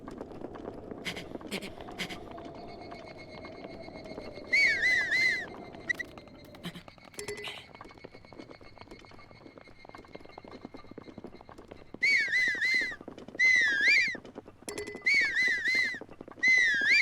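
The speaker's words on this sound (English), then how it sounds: "you have to listen to Link whistle constantly" Link whistling a repeated melodic tune while sprinting across Hyrule in Breath of the Wild, clear bursts of whistling mixed with quick footsteps and game sounds, with a person talking over parts.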